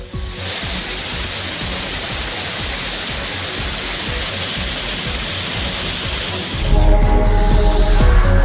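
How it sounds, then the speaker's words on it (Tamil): Heavy water thunders down Thirparappu falls in Kanniyakumari district, swollen by high inflow, as a steady, loud, broadband rush that holds unbroken for several seconds before the sound shifts. "அனைத்து அருவிகளிலும் நீர்வரத்து அதிகரித்தது"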